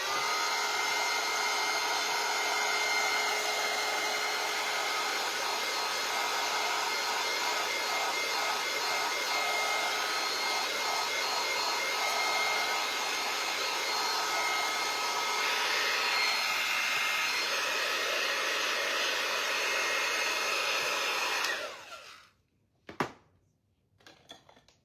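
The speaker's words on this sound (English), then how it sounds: "Dryer's coming, you guys." Hair dryer blowing on freshly painted pumpkin shelf sitter pieces, a loud steady whir with shifting pitch running nearly the whole time, then cutting off with a few clunks of handling near the end.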